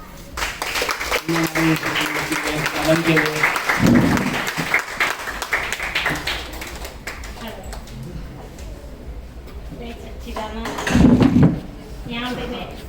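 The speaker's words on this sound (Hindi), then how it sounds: "जोरदार तालियां" An audience at a family gathering breaks into applause in bursts, the loudest clapping swelling near the end, with someone speaking into a microphone between them.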